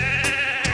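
A sheep bleats once in a short, steady, wavering call, heard alone.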